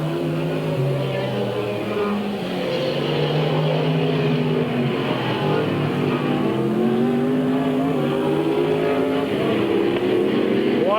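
Race cars circling a dirt oval at Midvale Speedway during a 1997 race, engines droning loud and steady as the pack passes, with rising and falling pitch from several cars and faint announcer talk underneath.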